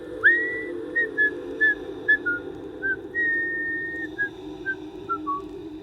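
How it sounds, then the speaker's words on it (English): A man whistles a short melody of clear, bright notes, mostly brief with one longer held tone, at a steady easy pace, close and alone against quiet background hiss. "He just kept digging and whistling the same short melody over and over."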